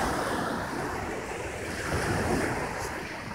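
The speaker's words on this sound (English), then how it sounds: "There's waves from the Gulf of Mexico." Waves from the Gulf of Mexico roll onto the beach in a continuous rushing surf, with wind buffeting the microphone and no voices.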